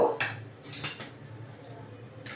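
A metal spoon clinks against a pan a few times as ghee goes in while preparing a chicken dalna, a short scrape and a couple of sharp taps close by, then quiet kitchen hiss.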